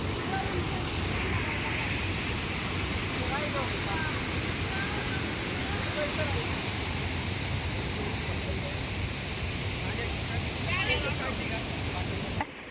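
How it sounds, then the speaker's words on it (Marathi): Forceful water rushes at a waterfall in a forest area, a loud, unbroken roar that fills the whole stretch, with faint voices under it. "किती जोरात पाणी आहे"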